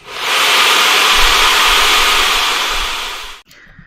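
A hair dryer blows a loud, steady rush of air close by for about three seconds, then cuts off abruptly, leaving a faint tail.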